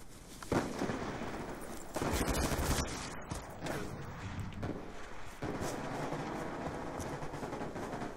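Gunfire from a hard-kicking gun in a shooter game comes as several rough bursts: a sharp shot, then a longer crackling volley and a few more reports, all fairly quiet under a constant game background.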